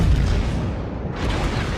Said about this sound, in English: Miyogi returning fire.